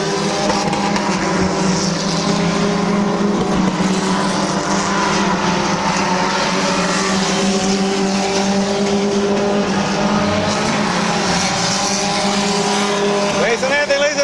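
Race cars at Midvale Speedway thunder around a track in a steady, continuous engine drone, with a commentator talking over the racket.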